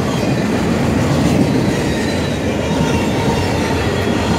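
FEC freight train 202 passing close by, a loud, dense roar of rolling wagons with rail clatter and faint wheel squeal holding steady throughout, no voices.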